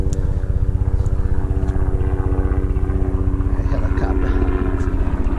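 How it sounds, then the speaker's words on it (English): Rapid rhythmic rotor chopping thumps from a helicopter passing close overhead, loud and steady, with brief faint voices in the background. "Helicopter."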